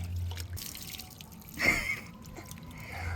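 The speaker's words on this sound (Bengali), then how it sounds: "সব জল পিছন দিকে নয় সামনের দিকে পড়ে যাচ্ছে" Water is poured over a baby during a bath at home, a brief splash and trickle in the middle of a quiet room with faint background murmur.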